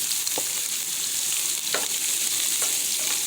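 Italian risotto rice fries in an oiled pan with a loud steady sizzle, broken by a few scraping stirs of a utensil, heard close up.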